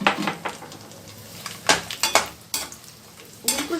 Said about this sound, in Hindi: बिल्कुल सेकंडों में ये फ्राई हो जाते हैं।